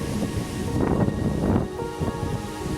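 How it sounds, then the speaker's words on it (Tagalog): Loud storm gusts batter the microphone in a garden, rumbling heavily in waves with a dense rushing roar that swells and eases. "Mahangin talaga."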